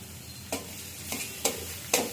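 Leafy greens frying in a little oil sizzle quietly, with four distinct scraping strokes of a spatula against the pan, spaced roughly half a second apart, close and soft.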